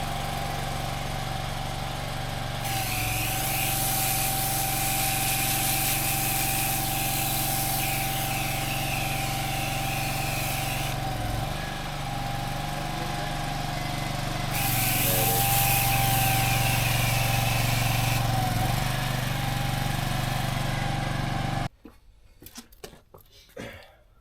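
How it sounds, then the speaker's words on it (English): A pressure washer gives tarmac a light rinse ahead of painting: a loud, steady motor drone with hissing spray that surges in two long bursts, then cuts off abruptly near the end, leaving faint scattered knocks. "just wash this off with the pressure washer, just a light rinse"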